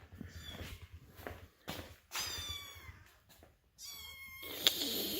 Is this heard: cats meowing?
yes